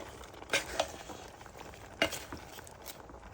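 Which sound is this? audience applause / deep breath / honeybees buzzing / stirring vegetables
stirring vegetables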